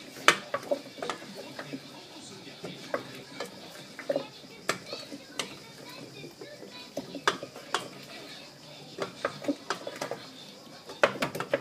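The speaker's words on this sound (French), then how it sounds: "Je vais touiller un peu." A spoon stirs carrots and courgettes into a simmering chorba, producing scattered light clinks and taps against the pot at an uneven rhythm with soft background noise.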